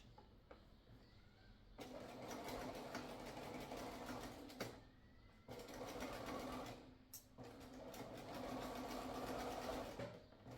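A sewing machine stitches across the edge of fabric for a caftan, running in two long close bursts of rapid mechanical whirring with a short pause between them and a brief stop near the end.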